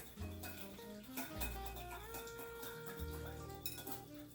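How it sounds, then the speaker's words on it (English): A utensil stirs stir-fry sauce made with sesame oil in a dish, producing close clinks and scraping knocks against the dish at an irregular rhythm, with no talking. "And give this a mix to combine everything."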